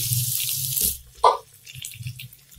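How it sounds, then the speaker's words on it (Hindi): Water is poured into a pan of cooking kachnar, a brief rushing pour of about a second followed by a short splash and quiet kitchen sounds, with no talking. "पानी डालेंगे ताकि अच्छे से कचनार गल जाए"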